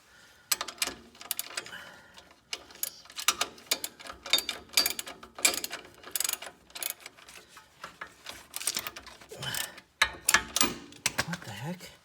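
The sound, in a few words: tightening a locking nut on a shock absorber bolt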